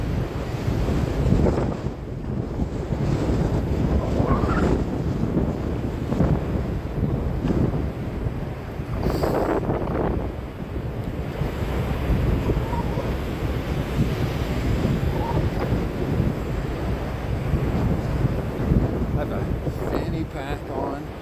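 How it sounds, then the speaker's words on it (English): Ocean waves washing onto a beach in February with steady wind buffeting the microphone, a continuous broadband roar throughout, with talk faintly present beneath it. "The sound of the waves is therapeutic."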